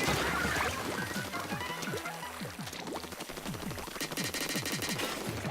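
Hero Dualies weapon firing in the Splatoon 2 video game: rapid, steady bursts of wet, splattering shots repeating in quick rhythm, loud and continuous with no talk.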